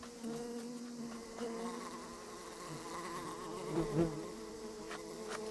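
Giant hornets buzz steadily and continuously at moderate distance around a disturbed nest, a droning hum that swells briefly near the end.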